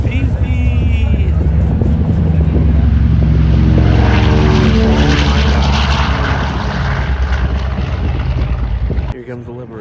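Fifi, a WWII warbird, roars past low and loud at an air show, its propeller engines droning with a falling pitch, with voices in the crowd.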